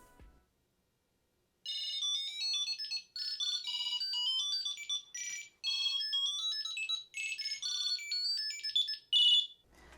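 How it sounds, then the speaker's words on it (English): A Tile tracker plays its find sound: a bright electronic melody of rapid high beeping tones in short repeated phrases, loud and close, with no voices. "you play a sound using the Tile app and follow it until you find your item"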